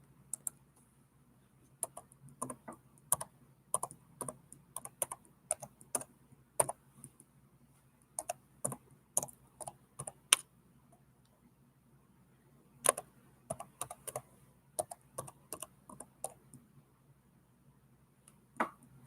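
Keys clatter on a computer keyboard in irregular bursts of quick taps with short pauses between, close and fairly quiet.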